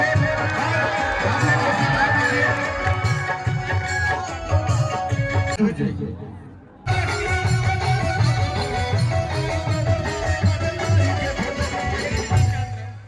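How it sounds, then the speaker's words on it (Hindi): Audience clapping and cheering at a devotional music performance during a 1008-kunda yagna in Nawadih, heard as a loud, continuous crowd roar blended with music, briefly dropping out midway before resuming. "हमारे छोटे भाई चंदन यादव जी के लिए ताली बजा के"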